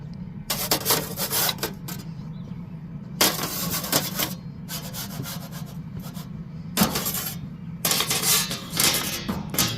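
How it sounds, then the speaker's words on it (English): Shrimp are slid one at a time into a Blackstone pizza oven, giving several distinct scraping rasps in bursts over a steady low roar of the oven. "we're just going to one at a time slide these forward and put them in there"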